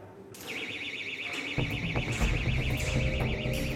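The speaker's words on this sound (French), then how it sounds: "Un boîtier permet de détecter la présence d'un gaz anormal et déclenche alors une alarme." A portable gas detector alarm shrills during a sewer safety drill in the Paris sewers, a continuous warbling electronic siren with rapid pulsing, joined midway by heavier clanking and rumbling movement nearby.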